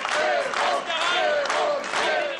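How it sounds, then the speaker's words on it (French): A crowd at a mayoral handover in a small town festival hall, loud and close, with shouting voices, cheering and whistles rising in repeated bursts over a noisy clamor. "entre applaudissements et sifflets"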